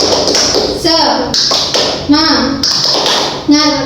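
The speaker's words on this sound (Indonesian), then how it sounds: "Ibu tutup dengan tepuk semangat." A classroom of primary-school children performs a rhythmic clapping chant at the close of a maths lesson, with sharp, evenly timed claps close by and children's voices chanting along in bursts between them.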